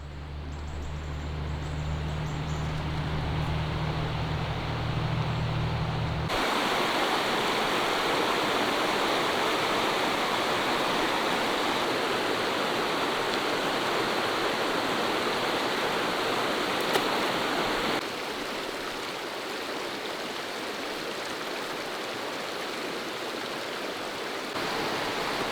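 A river flowing at Devils Den, a loud, steady rush of water close by that fills the whole scene without letup, with a low rumble early on that gives way to an even, broad wash of sound.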